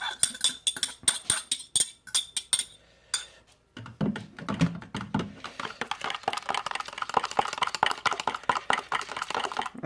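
Yeast being stirred by hand into a bowl of liquid for Tangzhong-method Chinese bread, heard as a steady run of close, rapid clinks and scrapes of a utensil against the bowl, with a brief pause partway through.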